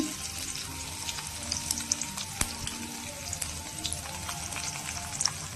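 Steady crackling sizzle of food sautéing in a pan for vermicelli, a continuous close frying hiss with small pops and a few sharper clicks, no voices.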